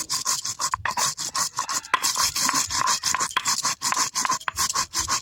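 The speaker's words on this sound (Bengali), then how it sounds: "এখন জিরেটা বেটে নিই বেটে নিলাম জিরে" Cumin seeds are ground into a paste on a grinding stone, producing close, continuous rasping strokes in a steady back-and-forth rhythm with brief pauses.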